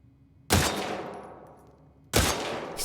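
Gunfire on a shooting range in The Last of Us Part II: two loud, sharp shots about a second and a half apart, each with a long ringing decay, close and alone.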